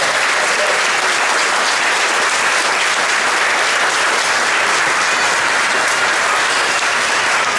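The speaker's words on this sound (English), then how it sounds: "let's have a round of applause for the John F. Kennedy class of" A large audience at a 2021 school moving-up ceremony claps loudly and steadily. The dense, unbroken applause lasts the whole stretch, close and full, with no pauses.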